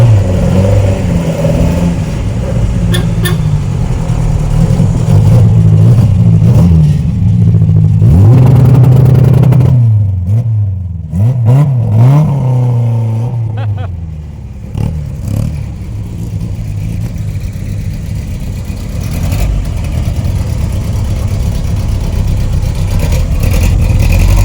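A Ford Escort rolls past at a classic car show, its mid-pitched engine revving up loudly and swelling close by before easing off, with a steady engine rumble carrying on afterward amid show-ground noise.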